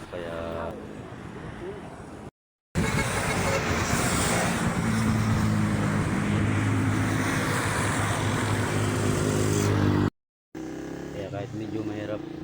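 A Rusi DL 150 motorcycle engine running during a test, a loud, steady, rough drone that holds for several seconds between two short cut-outs, with quieter moments at either end.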